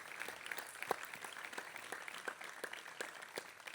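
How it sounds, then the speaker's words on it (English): Audience applause at a kirtan gathering in Sydney, Australia, a steady wash of many hands clapping at moderate distance, sustained for several seconds without talk. "Let's give an applause for the boys."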